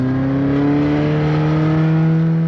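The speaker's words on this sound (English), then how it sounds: "microphones are being used to check the noise levels of the cars." A 1991 Mazda rally car engine runs at high revs outdoors during a winter rally noise check, a loud, steady, close drone whose pitch creeps slightly upward.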